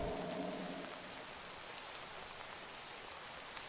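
Steady rain pours down in the survival video game From The Fog, a dense hiss of drops hitting surfaces that holds unbroken from start to end at a moderate level, with no voices over it.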